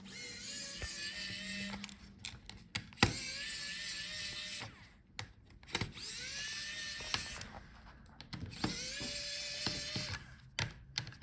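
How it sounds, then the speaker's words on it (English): Hinge screws on an HP Omen 15 laptop are loosened with a motorized screwdriver, which whirs in repeated bursts of a few seconds each, separated by brief pauses and small clicks, close and clear with no talk. "So unscrew the hinges."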